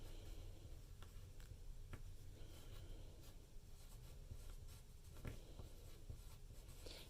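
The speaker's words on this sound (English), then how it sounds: "And then I'm going to write by Mrs. Jackson." A hand writes on paper nearby, with soft scratchy pen strokes and light taps over quiet room hiss, faint and unhurried.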